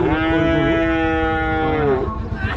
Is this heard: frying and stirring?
no